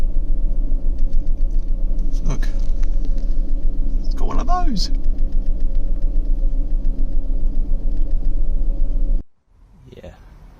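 A Saab 9000 engine idles near operating temperature with a steady low rumble, while someone talks briefly over it, and then the sound drops away abruptly near the end.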